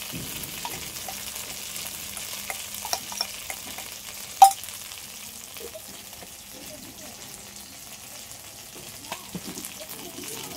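Yogurt spice paste added to a hot pan, frying with a quiet crackling sizzle and stirring scrapes, one sharp clang of a utensil midway, fairly close.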